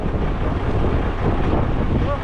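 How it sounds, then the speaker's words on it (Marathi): Wind and rough, deep-sea waves surging around a fishing boat, a dense, constant rumble and wash close to the microphone, with faint voices underneath. "बोट पण हालते आहे मोठमोठ्या लाटांनी"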